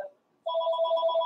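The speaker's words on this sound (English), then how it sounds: "Hey, my phone's ringing." A mobile phone ringtone starts abruptly after a short silence and rings on steadily as a clear, repeating electronic tone pattern, fairly close and alone with no talking.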